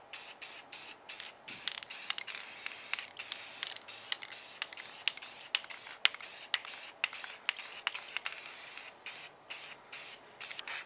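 Krylon matte clear seal coat hisses from an aerosol can in a string of short, quiet bursts with brief pauses between them, close up and with no voices.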